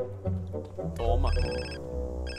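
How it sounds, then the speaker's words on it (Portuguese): A telephone rings in the video game GTA San Andreas, a bright electronic trill repeating in short bursts while in-game voices and background sounds continue underneath. "Atende a porra do telefone."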